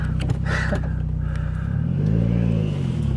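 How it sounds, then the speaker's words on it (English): A new Honda Civic Si engine idling loudly up close, then revving with a rising and falling drone midway before settling back. "The new Honda Civic SI. Sounds pretty good."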